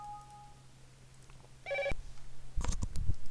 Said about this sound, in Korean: 또 전화가 오네.